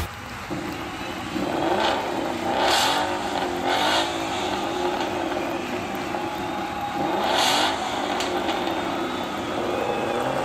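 A 2015 Ford Mustang GT Convertible engine revs and accelerates steadily uphill, with a couple of louder surges as it pulls away, fairly close and continuous throughout.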